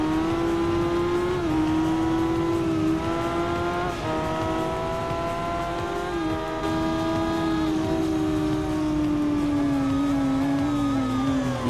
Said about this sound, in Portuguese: E vem que vem forte, mano, a Z1000, hein?